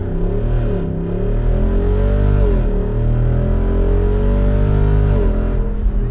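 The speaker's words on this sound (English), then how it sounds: "Come to a complete stop and floor it." A 2024 Jeep Wrangler Rubicon 392 Final Edition V8 launching hard from a standstill with traction control off, its engine roaring loud and close as it climbs through the revs, shifts gear and pulls again; no talking.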